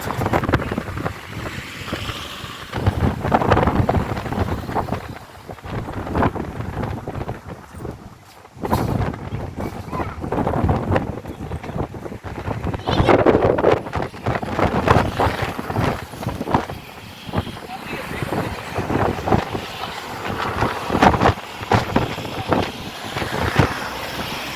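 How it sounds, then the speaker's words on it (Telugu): Strong wind buffets the microphone during a train ride across the Pamban Bridge, a loud, gusty roar that rises and falls throughout, with rattling train noise beneath it. "చెవులలోకి వెళ్ళిపోతుంది గాలి"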